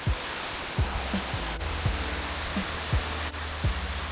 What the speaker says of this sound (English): Let's get into this waterfall and play a little bit.